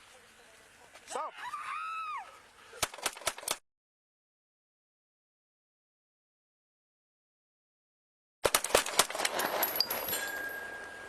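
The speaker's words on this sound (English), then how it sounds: "Shots fired. Shots fired." Gunshots during a police encounter, a quick cluster of several sharp cracks after shouting, followed by a gap of silence and then more loud bangs amid voices and a siren.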